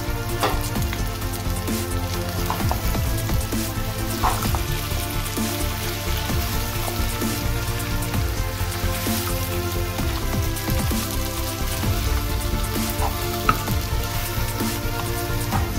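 Whole garlic cloves fry in hot oil for okra with dried prawn curry, giving a steady, dense sizzle that stays loud and even throughout with occasional crackling pops and no talking.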